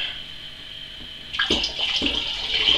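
Cooled malt liquid for kvass is poured into a vessel, starting as a gentle trickle and becoming a steady splashing stream that carries on close by. No one speaks.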